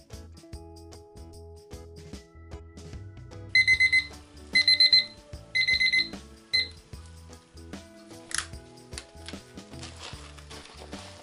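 A kitchen timer beeps in rapid repeated bursts of high electronic tones after resin mixing, sounding as three or four clustered chirping groups over steady background music.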